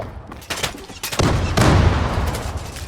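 Gunfire in the online shooter Zula during a competitive match, with bursts of rapid automatic shots and sharp cracks that build into a dense, loud volley.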